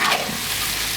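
Bitter melon, potato and chicken stir-fried in a wok, a steady close sizzle with soft scraping of stirring that runs continuously through the short stretch with no voices.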